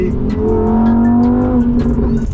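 A Lamborghini Huracan V10 accelerates hard in Dubai, its loud engine note rising steadily and continuously close by, with no talking over it.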